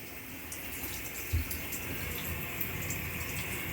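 Hot water from a small 110-volt electric water heater runs out of a tap in a steady, faint, continuous hiss, with a soft thump partway through.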